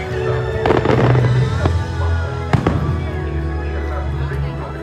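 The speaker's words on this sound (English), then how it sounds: "Fireworks have just ended" Fireworks finishing over Disneyland, heard from aboard the Astro Orbiters ride: scattered booms and crackling pops, a sharp bang near the middle, under a steady crowd hum with voices talking.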